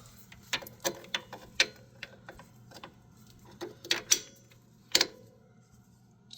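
A ratchet works on a 17 mm bolt mounting a Brembo brake caliper on a 1992-1997 Subaru SVX, giving sparse, close clicks and short bursts with quiet gaps between them.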